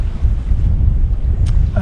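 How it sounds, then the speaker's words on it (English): Cold wind buffets a microphone outdoors on a Scottish pike-fishing shore, a loud, steady low rumble of gusts for a couple of seconds with no speech. "It's a cold wind."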